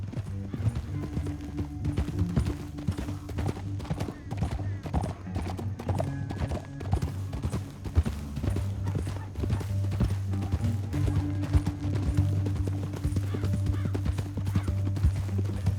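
Horse hooves clop steadily and rapidly over a low rumbling background, continuous and fairly close throughout.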